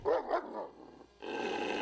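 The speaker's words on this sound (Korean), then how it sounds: "무슨 일인지 우렁차게 짖어대는 싱츠." A very large Caucasian Ovcharka guard dog barks twice in quick succession, loud and close, and then steady background noise takes over.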